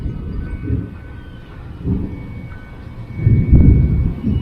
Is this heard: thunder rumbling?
yes